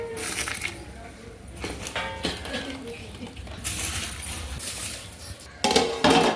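A metal lid clinks and clatters onto a large pot of bagara rice cooking over a wood fire, giving several sharp metallic knocks. A person talks in the background.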